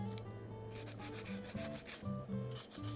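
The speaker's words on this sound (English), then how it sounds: "So I'll show you what to do with the wire brush." Wire brush scrubbing a part of a Penn International 30 fishing reel during servicing, a steady close scratchy rubbing with short strokes throughout, no talking.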